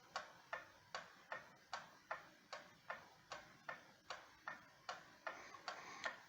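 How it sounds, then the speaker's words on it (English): A Seth Thomas gallery wall clock from around 1910 ticks evenly, its movement giving a steady run of about a dozen crisp, close ticks at a regular pace with no voices. "the movement tick-tock sounding similar to this."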